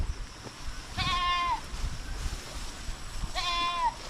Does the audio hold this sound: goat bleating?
yes